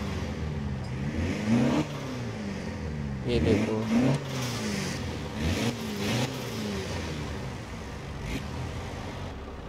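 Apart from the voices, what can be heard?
Toyota Land Cruiser Arctic Truck engine revving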